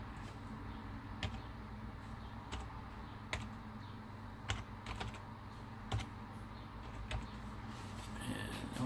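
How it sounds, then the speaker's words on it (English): Keys on a computer keyboard tap out a password in a sparse, uneven series of quiet clicks over a faint steady background hum. "hopefully I typed that in correctly"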